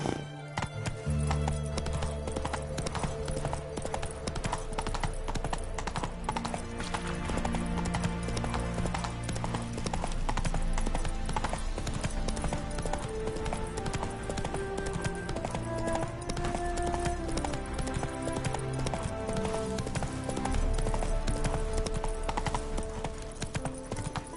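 Roach the horse from The Witcher 3 video game gallops with steady, loud clip-clop hoofbeats and an occasional whinny, set against a dense, continuous music score.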